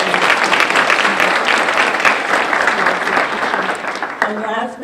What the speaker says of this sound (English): let's give a round of applause for the people who prepared and served our meals